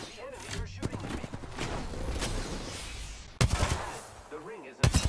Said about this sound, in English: The enemy are shooting at me.